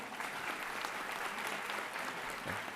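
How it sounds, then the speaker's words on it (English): Steady applause from an audience at a college graduation ceremony, quiet and somewhat distant, a continuous wash of clapping with no break. "You can give them a round of applause."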